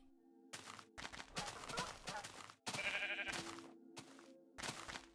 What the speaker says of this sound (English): Pink sheep.